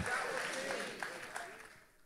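A church congregation claps during a morning service, a brief faint burst of scattered applause fading under a voice.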